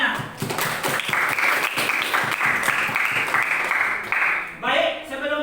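Classroom full of students clapping together in a dense, sustained burst of applause lasting several seconds, fading briefly before a few voices speak at the end.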